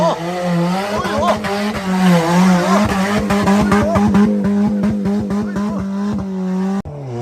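A two-wheel-drive car with a completely destroyed exhaust pipe roars up a steep hill-climb slope on a popular Chinese off-road route, its loud raw engine note wavering in pitch and straining throughout before cutting briefly near the end.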